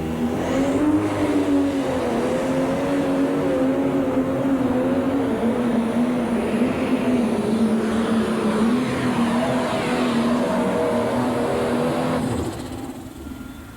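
A loud, sustained pro stock pulling tractor engine roar, 10,200-pound class, at the 2002 National Farm Machinery Show pull in Louisville, Kentucky, a wavering low drone holding strong for over ten seconds before easing off at the end.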